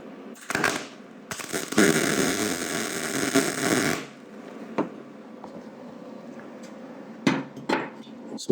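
Railroad spikes being welded together outdoors in a rough, uncleaned weld, giving a loud crackling buzz of arc welding for a couple of seconds, followed by sharp metallic taps and clanks.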